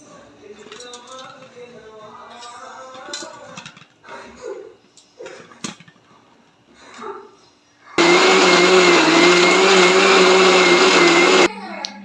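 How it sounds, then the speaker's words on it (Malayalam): A mixer grinder grinds coconut for a Kerala raw banana curry, roaring loud and steady for several seconds after a stretch of kitchen handling noises and a voice. "ഒന്ന് മിക്സിയിലിട്ട് അരച്ചെടുക്കണം"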